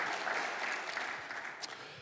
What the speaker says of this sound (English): So big round of applause for all of those folks.